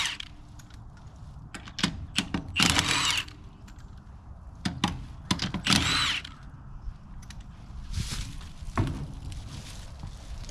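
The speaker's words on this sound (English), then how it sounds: "we're gonna go ahead and use a chrome impact socket" An impact wrench fitted with a chrome impact socket fires in short, loud rattling bursts separated by pauses, with clanks and handling noises in between while working on a vehicle.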